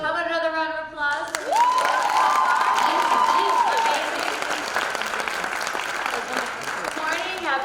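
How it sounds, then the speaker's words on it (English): Applause and cheering from a high school audience at a Girls Rising morning event fill the room loudly for several seconds, with voices shouting over the steady clapping. "How about another round of applause?"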